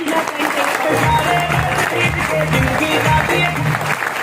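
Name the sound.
loud applause from audience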